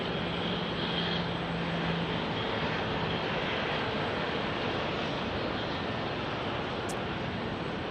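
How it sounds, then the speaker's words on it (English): Airbus A321 jet engines at Phoenix Sky Harbor Airport, a steady broadband roar that holds loud and even throughout, with no voices over it. "Those engines of the A321 spooling up there."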